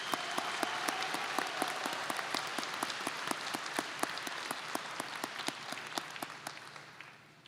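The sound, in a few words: audience applause at nursing commencement ceremony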